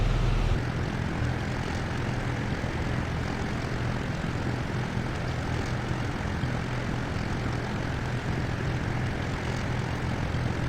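Twin propeller engines of a P-38J in the Prepar3D flight simulator drone steadily at 2600 RPM. The deep, even roar holds unchanged throughout with no talk.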